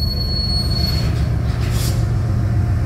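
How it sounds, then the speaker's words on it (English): A CitiRail freight train stops to couple hopper cars at night, with a loud, close, sustained metallic wheel squeal and a low rumble of rolling cars underneath. "Yep, they're stopping and hooking up."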